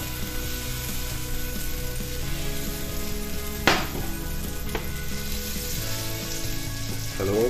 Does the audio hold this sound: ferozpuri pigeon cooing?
no